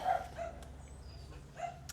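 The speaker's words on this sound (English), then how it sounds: "Somebody's talking to the dogs, so they're losing their minds." Dogs bark at a garage sale, a few sharp yips and barks in quick succession, somewhat distant and moderately loud against a quiet background.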